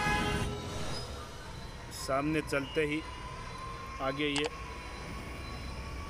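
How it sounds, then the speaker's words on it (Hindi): A Jaipur Metro train passes nearby with a steady rumbling rail noise, while someone speaks in Hindi over it in short bursts. "जो मेट्रो जा रही है ये जयपुर मेट्रो"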